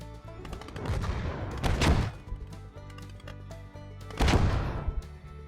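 An MG34 machine gun fires in the Gates of Hell game in two rapid rattling bursts a couple of seconds apart, fairly faint and distant, with no voice in between.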